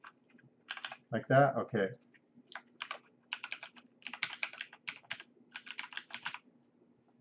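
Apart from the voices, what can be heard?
typing on a computer keyboard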